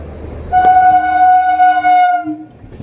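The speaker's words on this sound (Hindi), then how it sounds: "और सामने से कोई ट्रेन आ रही है," A local train passes close by on a line near Tilak Bridge, Delhi, with a loud, sustained horn blast lasting nearly two seconds over rumbling wheels, then the noise fades away.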